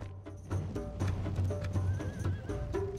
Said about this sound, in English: So their horses are coming out first.